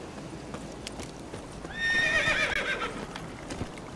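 Roach, a horse in The Witcher 3, moves with faint hoof clip-clops, then gives a loud, high, quavering whinny lasting about a second before the hoofbeats resume quietly.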